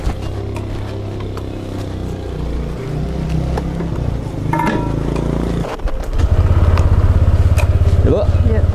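A motorcycle engine putters and revs up close, its drone growing louder and rougher as the ride gets going, with road noise around it.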